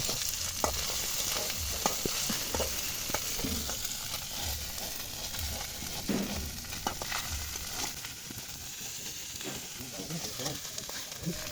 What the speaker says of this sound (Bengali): আমাদের মাছ ভাজা হয়ে আসছে, আর কিছুক্ষণের মধ্যেই হয়ে যাবে।